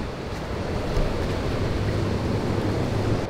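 Steady wash of ocean surf and gusting wind at Pipeline on Hawaii's North Shore, with small waves; a continuous broadband roar with wind buffeting the microphone throughout.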